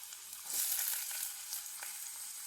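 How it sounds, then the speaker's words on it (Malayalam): Sliced onion fries in hot oil in a pan on the stove, giving a loud, steady hiss of sizzling. It holds evenly for a couple of seconds with no voices. "ഒരു പാൻ അടുപ്പത്ത് വെച്ചിട്ടുണ്ട്. കുറച്ച് എണ്ണ ഒഴിച്ചു കൊടുക്കാം. എണ്ണ ചൂടാകുന്നുണ്ട്."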